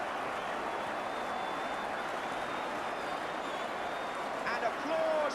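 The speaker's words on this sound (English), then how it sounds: "applause ringing round Villa Park when they know a good goal" A large football crowd at Villa Park applauds a goal in a broad, sustained roar of clapping that fills the stadium from start to end, with a brief swell near the finish.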